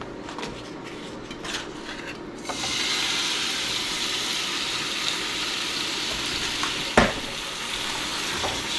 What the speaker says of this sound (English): I'm just gonna add this meat directly to the pan